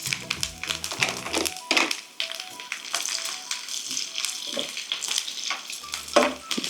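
Coconut pieces and cashews frying in ghee, a crackling sizzle punctuated by repeated metal spoon taps and stirring scrapes against the pan, close and fairly loud.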